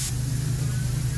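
A paint spray gun hisses steadily while spraying a spray-out test card of car paint, one continuous close airy spray with a low steady hum beneath.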